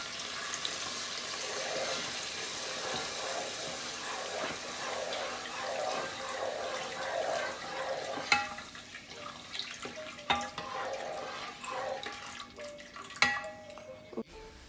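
Water is poured into a mustard sauce in a pan and stirred, a soft continuous splashing and bubbling followed by several sharp utensil clinks against the pan, quiet and without speech.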